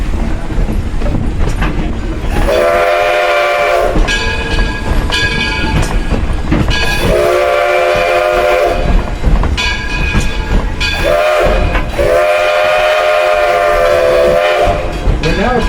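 Edison No. 1 locomotive rolling along under heavy, continuous rumble and clatter of wheels and cars, with repeated loud, sustained whistle blasts sounding in several bursts at close range.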